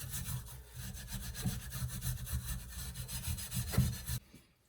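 Cast iron muffin pan scrubbed to strip off baked-on gunk during seasoning, a rapid rhythmic scraping close by, fairly quiet and steady before stopping abruptly, with no talk.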